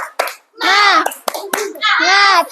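A primary school class does a rhythmic spirit clap, sharp unison hand strikes falling in a short pattern between children's chanted voices, close and loud.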